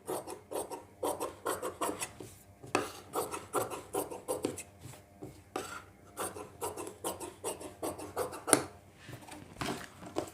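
Extra cloth fabric being cut while sewing a round neckline, heard as close, repeated rasping and rubbing strokes in irregular bursts with short pauses between them.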